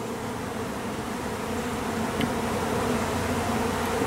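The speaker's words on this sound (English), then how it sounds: "there was already a loud, pretty good amount of bees" A honeybee swarm drones steadily at a hive after moving a short distance, a dense continuous buzz of many bees with fanning, loud and close throughout with no voices.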